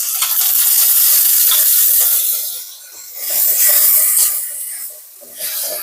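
Spice paste of turmeric, chili powder, ginger-garlic paste and salt hitting frying koi fish, a loud close sizzle that surges, eases, then flares again in waves.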